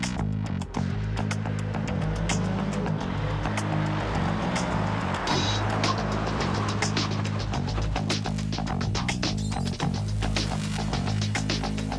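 A 2024 Dodge Hornet R/T Plus e-AWD accelerating into a slalom in manual mode, a steady droning engine and road hum heard from inside the cabin, constant and fairly loud throughout.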